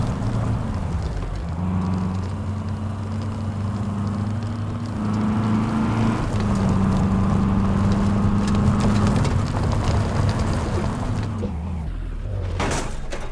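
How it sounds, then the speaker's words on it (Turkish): A steady, rumbling Volkswagen Amarok pickup truck engine in Euro Truck Simulator 2 drones on with shifting pitch as it revs up and eases off, loud and continuous, with a clunk near the end. "Of motorun sesine bakın ya."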